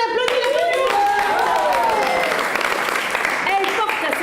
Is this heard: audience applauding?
yes